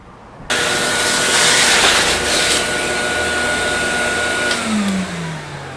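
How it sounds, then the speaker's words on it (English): A vacuum cleaner cleans up debris between steps of restoring old windows. It switches on abruptly, runs as a loud, steady, close whine and roar, and its pitch begins to wind down near the end. "And then you're going to vacuum again after that."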